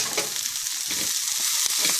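Crispy chilli chicken with black pepper is tossed in a pan, a loud steady sizzle with quick scraping and clattering stirring strokes, close and with no talking.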